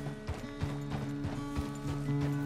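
A horse in the video game Red Dead Redemption 2 clip-clops along at a steady walking rhythm, hooves thudding close against a humming game background, with no clear whinny.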